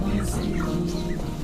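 A chicken clucking close by in a flood-relief setting, a steady run of low, throaty clucks with a faint higher chatter in the background, no speech.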